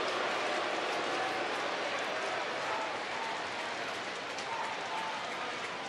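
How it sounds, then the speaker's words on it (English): Capacity crowd at a baseball stadium in Texas: a continuous broad wash of distant cheering and buzzing, steady and moderately loud, with no clear individual voices rising above it. "There's a pretty good buzz going around this stadium."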